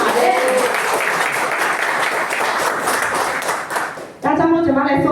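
Loud, dense applause from an audience at a business motivation event fills the whole stretch. It breaks briefly near the end before a voice begins speaking.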